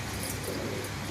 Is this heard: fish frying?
no